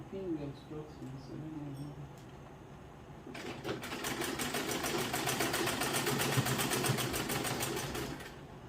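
A sewing machine stitches skirt fabric with a lining, its fast, steady needle rattle starting after a few seconds and running on at close range, with a voice talking quietly beforehand.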